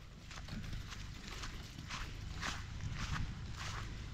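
An ox runs across village ground, its hooves landing in soft, evenly spaced thuds that sound faint and somewhat distant against a quiet outdoor background.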